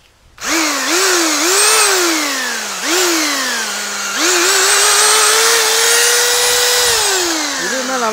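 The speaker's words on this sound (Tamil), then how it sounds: "இப்போ வந்து நம்ம ட்ரில் மூடில் வந்து வச்சுருக்கோம்." A restored power drill runs in drill mode, loud and close. Its whine rises and dips through several short pulls of the trigger, then settles into a sustained high-pitched run.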